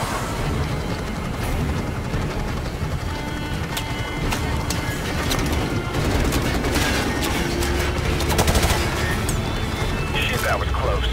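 Call of Duty Modern Warfare Remastered combat, with scattered gunshots and bursts of fire crackling under steady battle noise and radio chatter, moderately distant and continuous.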